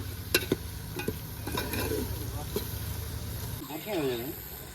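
Garlic chutney, salt, coriander and cumin being stirred into khichdi tempering in a pan, giving scraping stir strokes over a light sizzle, with a person talking throughout.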